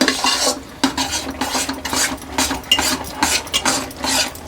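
Hot peanut laddu mixture with peanuts just added is stirred in a pan, producing continuous close scraping and clattering against the pan over a light sizzle. Fairly loud, with no talking.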